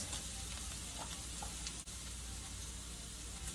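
Mushrooms sizzle in a very hot pan over high heat, a steady, even frying hiss that stays quiet and unbroken, with no voices over it.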